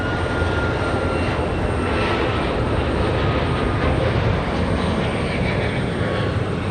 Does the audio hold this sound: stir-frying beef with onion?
no